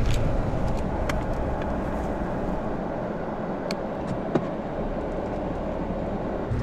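A car drives up a narrow, cloud-covered mountain logging road, giving a steady, close rumble of engine and tyres on the surface with a few faint clicks and knocks, no speech.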